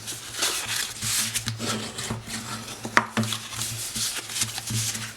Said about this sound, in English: let's just start by folding and burnishing